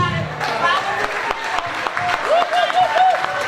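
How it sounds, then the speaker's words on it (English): Audience applause at a tribute event honoring African-American trailblazers at the Bethune Center in Jersey City, a steady wash of clapping with a voice speaking over it. "Let's stand up and give Reverend Daughtry a round of applause"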